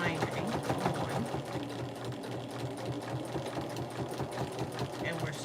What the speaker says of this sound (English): we're stitching our binding on